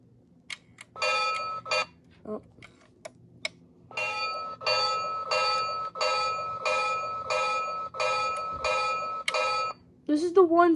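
A Williams Golden Memories Santa Fe F3 model train's bell rings repeatedly in a steady, even rhythm of about eight clangs, loud and close, with a few clicks before and a voice at the end.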